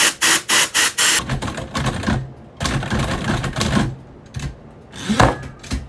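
Keys of a manual typewriter strike in quick bursts, loud and close, with sharp clacks, mechanical rattles and pauses between runs of typing.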